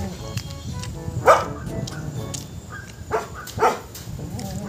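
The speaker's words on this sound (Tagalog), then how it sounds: "Ang aso ko. Ang aso ko." A dog gives a few short barks and yips at a middle distance, spaced apart over a steady background murmur in a shawarma eatery setting.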